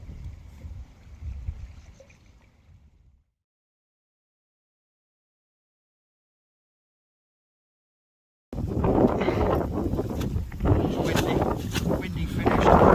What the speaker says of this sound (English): Windy finish to our session